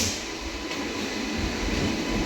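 WAP-5 electric locomotive hauling a special train from Anand Vihar Terminal toward Kanpur Central, a steady broadband rumble and hiss of the moving train heard from on board, continuous throughout.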